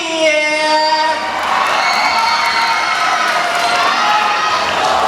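A large crowd at a beauty pageant's national costume segment cheers and shouts loudly and continuously, with whoops and scattered clapping blending into a steady roar.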